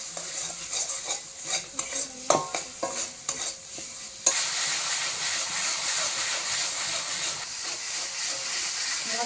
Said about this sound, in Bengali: অল্প একটু মশলার জল, কুচানো টমেটো দিয়ে ভালো করে কষিয়ে নেব।